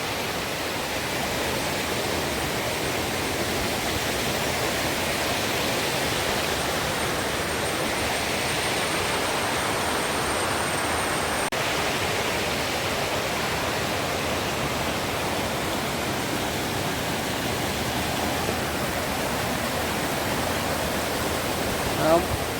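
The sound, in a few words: Madatharuvi waterfall, Ranni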